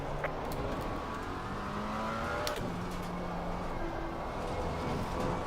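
GT3 race cars in Assetto Corsa Competizione on the Paul Ricard circuit, a steady engine drone with shifting tones as cars run close together, continuous and moderately loud with no talking.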